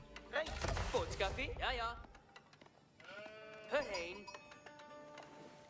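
Sheep bleat in Age of Empires IV, a cluster of close, wavering bleats followed after a pause by another bleat and game clatter.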